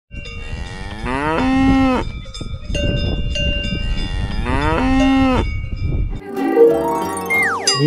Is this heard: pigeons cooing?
no